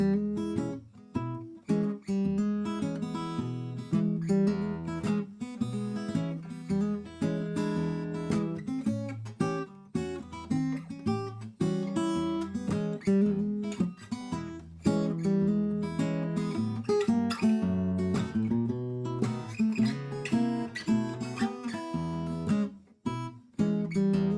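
A guitar plays a steady Kansas City blues pattern of plucked bass notes and chords, moderate in volume and unhurried, continuing without a break.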